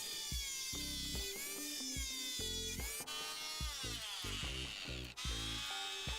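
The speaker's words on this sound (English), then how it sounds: "And here it is again, cutting through some pine." A Parkside PMFW 310 H5 oscillating multi-purpose tool with a saw blade cuts through pine, giving a steady, loud buzzing drone with a shifting pitch that runs without a break for several seconds, close to the listener.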